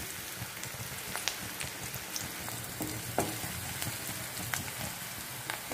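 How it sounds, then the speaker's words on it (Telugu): Chopped onion frying in hot oil in a pan for ridge gourd curry, a steady crackling sizzle with scattered pops throughout, close and moderately loud, with no talk. "ఆనియన్ ఆయిల్లో వేస్తాం."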